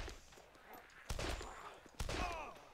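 Revolver shots in DayZ, two sharp loud cracks about a second apart, each with a brief echoing tail, over a low background of game ambience.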